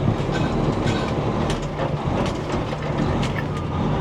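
A loaded vehicle rumbles and rattles loudly as it crosses a very rough railroad crossing, with a continuous close-up roar of jolts and knocks.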